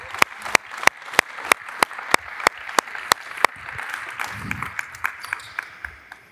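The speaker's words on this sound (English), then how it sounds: "Please give a round of applause for the guys." Applause follows a basketball coaching demonstration at a clinic on defending the Spain pick and roll: sharp, evenly spaced claps in a steady rhythm, later joined by softer scattered clapping and faint voices.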